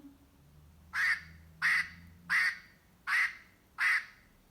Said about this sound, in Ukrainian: це качка.